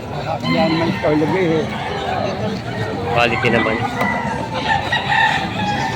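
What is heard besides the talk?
chickens clucking and rooster crowing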